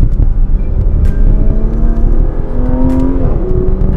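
A 2022 Porsche Macan GTS accelerates at full throttle, its engine a loud, steady roar heard from inside the car. The pitch climbs through the gears with brief dips at each shift.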